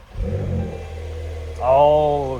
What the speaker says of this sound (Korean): 배기음이 장난이 아닙니다.